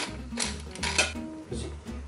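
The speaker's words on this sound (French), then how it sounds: "Je vais bien mélanger le tout." A utensil stirs Vietnamese sour fish soup with basil and green onion in an Instant Pot, making a few close metallic clinks and scrapes against the pot in short, uneven bursts.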